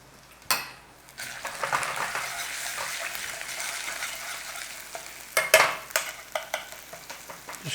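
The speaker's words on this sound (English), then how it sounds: "Just cook out that little bit of ginger in there." Ginger, hing and broken red chilli fry in a pan for paneer kadhi, a steady close sizzle broken by a few sharp clinks and scrapes of stirring, with no talking.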